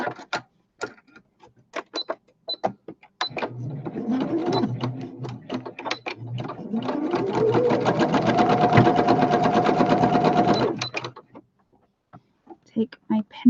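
A sewing machine stitches fabric weights in a steady run of fast needle clatter that speeds up and then stops, close by. Tapping and handling noises come before and after it.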